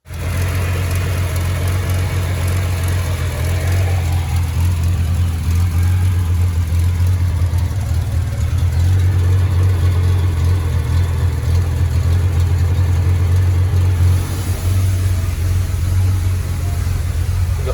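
A 1975 Triumph TR6 engine starts and settles into a loud, steady idle nearby, its deep rumble running throughout with a slight change in tone near the end.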